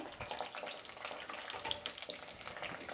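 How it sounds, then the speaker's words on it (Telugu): Eggplant pieces frying in hot oil in a pan, a steady broadband sizzle with crackling pops running throughout, close and fairly loud, with no talk. "ఇప్పుడు వంకాయలు వేయించుకుందాము"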